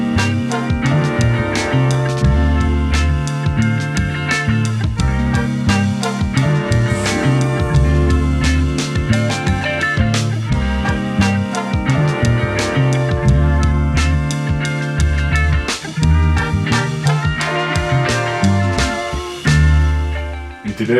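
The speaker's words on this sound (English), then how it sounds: "Soul samples that sound like this." Vintage-style soul music sample playing continuously and loud, with full band texture, steady rhythmic hits and sustained harmonic layers throughout, briefly dipping near the end.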